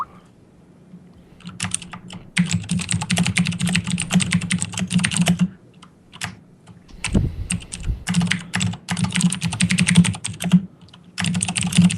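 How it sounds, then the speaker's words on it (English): Fast, continuous clicking of keys on a computer keyboard, close and crisp, in long bursts broken by brief pauses and a low thump, with no talking. "Such keyboard."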